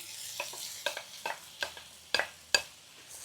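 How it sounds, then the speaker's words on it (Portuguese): Onions browning in a frying pan with leftover bits for tcholent, with a soft crackling sizzle punctuated by several sharp spatula scrapes and clicks, fairly quiet and close. "Vamos dourar ela também, misturando com as sobras que tem na frigideira."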